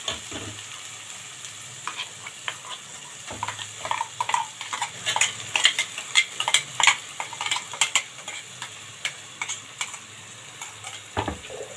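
Ground masala paste sautéed in a pan, with bursts of sizzling and scraping stirring strokes that grow busier in the middle, set against a quieter background hiss.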